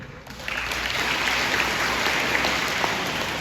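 An audience at a school Veterans Day program claps in a steady, dense wash of applause that swells in after a brief quiet start and carries on evenly.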